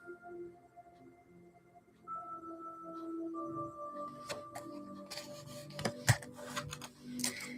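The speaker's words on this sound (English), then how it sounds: "I will shuffle again, stopping when I'm guided to for card number 2." Several crisp clicks and papery riffles of tarot cards being shuffled, close by over a faint tonal hum, with a sharper snap near the end.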